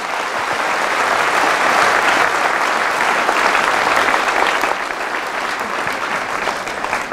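A Catholic congregation claps loudly for Jesus during a Mass homily on the Eucharist, a thick sustained wall of hands that swells slightly midway and continues steadily for several seconds with no talking.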